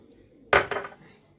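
A metal baking tray is picked up and set down while being oiled, giving one sharp clattering clank followed by a quick second rattle, close and brief against a quiet background.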